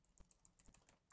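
Typing on a computer keyboard while entering a web address: a few quiet, scattered key clicks, ending in a sharper, louder keystroke.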